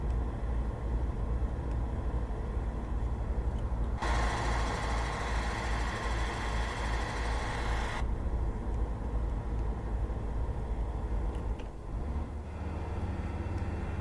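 A diesel truck engine in Euro Truck Simulator 2, running a new Roman Diesel sound mod, drones steadily while cruising at about 70 km/h. The low rumble holds at an even level throughout with no voices.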